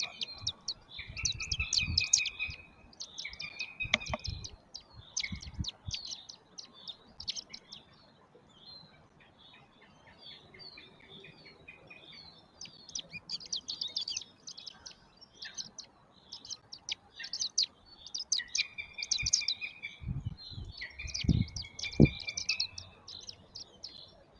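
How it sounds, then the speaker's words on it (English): Goshawk chicks in a nest keep up dense high-pitched chirping and crying calls in repeated bursts, fairly close, with scattered low knocks and rustles between them. "There's Little crying for help"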